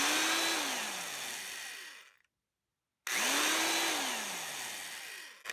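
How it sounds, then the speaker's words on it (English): Handheld electric drill with a broken variable speed control running at a single fixed speed, a loud whirring motor spinning up and winding down in two runs separated by a second of silence. "As you could see, it's like a one-speed drill, but I prefer it."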